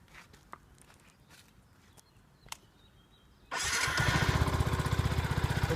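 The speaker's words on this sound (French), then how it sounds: "Je vais vous la démarrer." A Yamaha WR 125 R motorcycle starts after some quiet clicks and handling noises, catching abruptly into a loud, steady idle with a fast pulsing exhaust beat through a stock original muffler.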